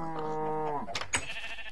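A single drawn-out cow moo from the Minecraft video game, near and clear, sliding down in pitch and then ending in a couple of short clicks.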